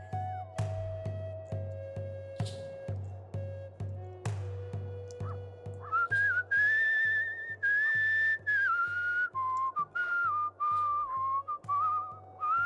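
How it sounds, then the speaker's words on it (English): Melodic whistling in the video game Where the Water Tastes Like Wine carries a wandering tune over a steady, rhythmic low pulsing backdrop, with the whistle growing prominent and continuous in the second half. "we listened to all of the whistling sounds"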